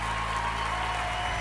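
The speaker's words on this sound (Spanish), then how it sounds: "Mira, todos esos aplausos son para ti." An audience claps steadily in a dense, continuous wash of applause after a child's song at a children's talent show final, full and sustained for the whole moment.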